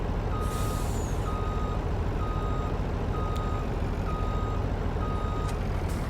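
A tractor reverses to hitch a trailer in Farming Simulator 19, its backup alarm sounding a steady series of evenly spaced high beeps over a constant engine drone.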